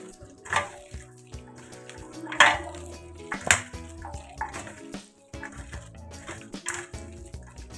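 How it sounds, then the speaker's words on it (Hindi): Soaked leftover rice with salt is mashed by hand in a bowl as water squeezes out, giving intermittent wet squelches and splashy bursts, a few sharper ones standing out, fairly close and without speech. "देखिए कैसे पानी निकल रहा है ना इसमें से।"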